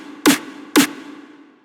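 Two punchy snare hits in FL Studio, programmed with a tiny envelope, almost no hold and zero decay, each loud and very short, about half a second apart.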